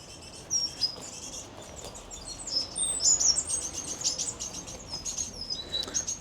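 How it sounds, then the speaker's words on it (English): Several birds sing and chirp over one another in a lively early-spring garden chorus in northern England, bright overlapping calls with a soft background hiss. "You can hear the birds have really been coming along with the spring chorus"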